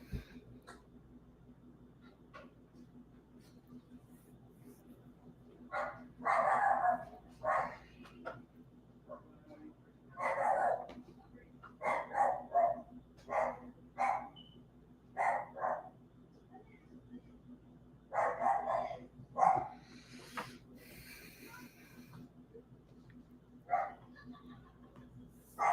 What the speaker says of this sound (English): The dog out there, I don't know if you can hear it.